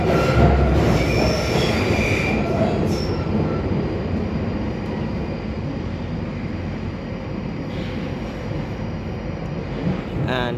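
A London Underground train running through the Kennington Loop, with loud continuous rumble and wheel squeal from inside the carriage throughout, rising squeals near the start and end.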